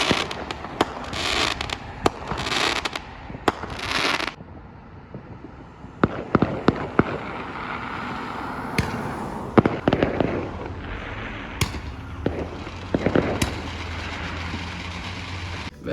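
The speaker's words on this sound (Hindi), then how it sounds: "पटाखे वगैरह फूट ही रहते वैसे तो।" Diwali firecrackers go off outdoors near a house in Canada, with scattered sharp bangs and crackling bursts at varying distances over a steady background rumble, some loud and close, others faint.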